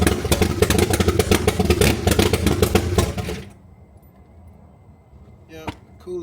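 Motorcycle engine with a C3 carburetor starting, chugging loudly and rapidly for a few seconds, then abruptly stalling into near silence, with a faint click near the end.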